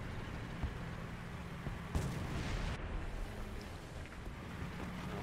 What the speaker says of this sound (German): der Schuss, der wurde in den Berg gesetzt, beziehungsweise in den Stein